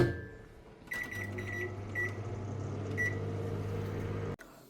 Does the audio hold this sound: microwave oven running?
yes